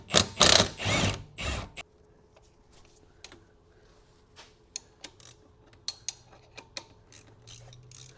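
Ratchet working a 21 mm bolt loose during a B58 engine swap into a wagon, loud handling noise at first, then a run of close, crisp ratcheting clicks in uneven bursts.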